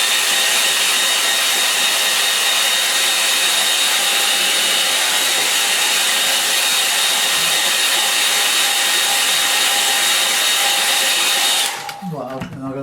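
A hair dryer blows steadily and loudly at close range for about twelve seconds, drying a painting in a Norfolk landscape watercolour session, then switches off abruptly, leaving brief faint handling noises.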